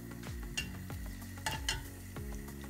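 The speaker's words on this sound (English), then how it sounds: "Let that sizzle." Oil sizzles softly with red chili and curry leaves, a constant crackle punctuated by a few clinks and low thumps of a pan or utensil.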